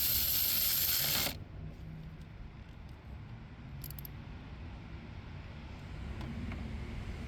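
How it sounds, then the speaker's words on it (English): A ratchet socket wrench tightens a 13mm battery terminal nut on a 2010-2016 Cadillac SRX. A loud, close burst of rapid ratcheting opens the clip, then it drops to a quiet background. "It's a 13mm nut that we're going to tie with a 13mm socket."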